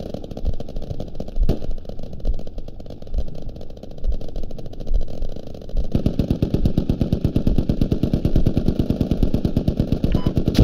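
Sustained automatic machine gun fire in the tactical shooter Squad, a dense rapid rhythm of shots over an engine-like rumble, growing louder and more continuous in the second half.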